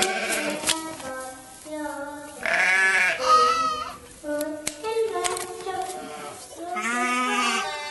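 Lambs and sheep bleat on a farm in a series of close, wavering calls that overlap one another, with a few soft knocks between them.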